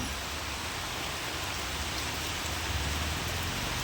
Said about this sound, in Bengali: আর আজকে আমি ডিউটি যাইনি শুধু বৃষ্টিটা দেখো বন্ধুরা